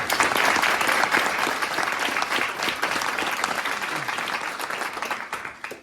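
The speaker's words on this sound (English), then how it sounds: "So let's give him a round of applause." Applause from the audience at a welcome ceremony for a maritime science education center, a dense burst of clapping that holds steady for about six seconds before tapering off.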